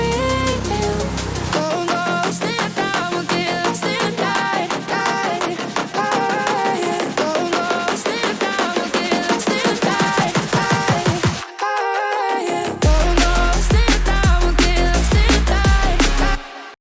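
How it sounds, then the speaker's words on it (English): Dense drum and bass music builds with rapid rising patterns and fills, cuts out abruptly for a moment, then drops back in with heavy low bass. "the build-up then sounds like this"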